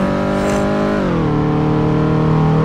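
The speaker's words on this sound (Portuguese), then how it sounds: "Tô acelerando, pegou nem 100 ainda" A car in the Roblox game Vida BR accelerating hard, its loud engine droning close by and dropping in pitch at a gear shift before climbing steadily again.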